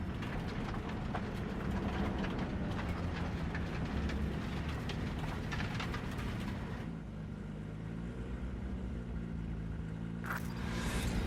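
A train in the Cyberpunk 2077 video game rumbles and clatters loudly and steadily, then drops to a lower hum partway through, with a sharp burst near the end.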